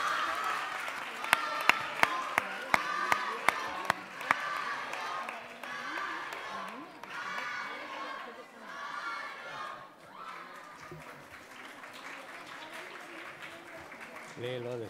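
Audience applause and cheering at a school event in Marbella, starting with scattered sharp claps that swell into a sustained crowd roar with children's shouts, steady and moderately loud for the full stretch.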